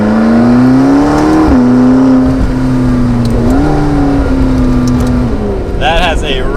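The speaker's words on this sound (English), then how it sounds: "Already I can hear the exhaust." Exhaust of a 2015 McLaren 650S Spider driving with the window down, a loud steady engine drone that rises and dips with throttle changes throughout, heard from inside the car.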